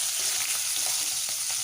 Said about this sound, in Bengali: মাছের মাথাগুলো উল্টো পিঠটা ভাজা হওয়া পর্যন্ত কিছুক্ষণ অপেক্ষা করব।